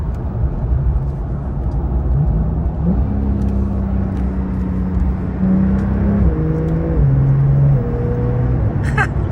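A Porsche 911 GTS with sport exhaust, heard as a continuous loud engine drone whose pitch steps up and down through several shifts, with faint voices underneath.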